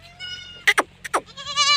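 A goat bleats in a few short, clear calls, close and fairly loud, with quiet pauses in between and a longer, tonal cry at the end.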